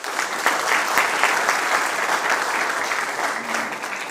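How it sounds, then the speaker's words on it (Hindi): A college audience applauds loudly to welcome a panel guest during a higher-education discussion program at MBD College, Doora; thick, continuous clapping holds at an even level throughout. "आप लोग ज़ोरदार तालियों से स्वागत कीजिए"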